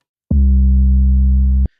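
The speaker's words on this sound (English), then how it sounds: "these 808s were ran through a distortion pedal" A single sustained 808 bass note run through a Tube Screamer distortion pedal, loud and deep, holds steady for just over a second with a gritty buzzing edge before cutting off abruptly.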